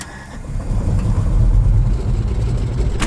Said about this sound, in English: unmistakable sound of the classic rotary engine is recognized the world over